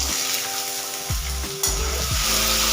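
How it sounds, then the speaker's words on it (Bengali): Boiled peas frying in hot mustard oil crackle and sizzle loudly, with a few scraping stirs of the spatula through the pan and no voices. "এটাকে এখন নাড়াতে হবে যখন একটুখানি হাট করে ভাজা যতক্ষণ না হয় ততক্ষণ।"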